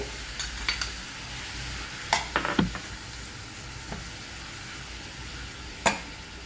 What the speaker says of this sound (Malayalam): കയ്പ്പക്ക ഇടുന്നുണ്ട്. അതിൻ്റെ കൂടെ തന്നെ ഉള്ളി പച്ചമുളക് ഇടുന്നുണ്ട്.